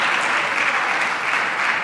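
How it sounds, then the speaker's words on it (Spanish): Congregation applauding in a church service, a steady, dense wash of many hands clapping together throughout, with no pause or break. "Denle un aplauso a Él."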